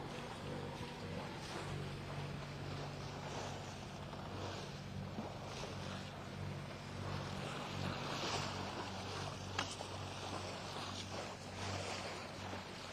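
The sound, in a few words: boat motor running with water noise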